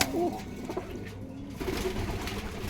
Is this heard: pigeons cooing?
yes